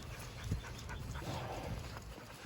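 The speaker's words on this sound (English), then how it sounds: "I feel bad for the dogs because they're panting and they're dying." Dogs panting during a walk in hot weather: steady, breathy, rhythmic panting close by under a constant outdoor noise, with no talking.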